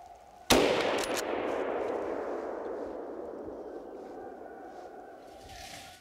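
A single loud rifle shot fired at a wild boar on a hunt cracks sharply. It is followed by a long, fading outdoor rumble and echo.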